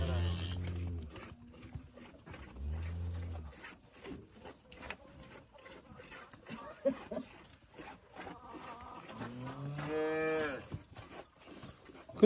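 Cows in a village farmyard at dawn give several deep, drawn-out moos, some near and some farther off, among quiet barn noises, while people talk in between.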